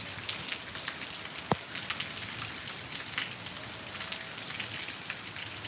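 A downpour falls steadily over waterlogged farm fields, making a continuous broadband hiss with scattered drop patters and one brief sharp knock partway through, no talking.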